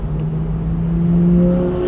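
A car engine whirs and rises in pitch as the vehicle passes on a drive at Prestwold Hall, steady and fairly loud, with no voices.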